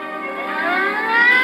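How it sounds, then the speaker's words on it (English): A loud, wailing siren with tones sweeping up and down, sustained and close, with no talking over it. "Here comes a fire truck."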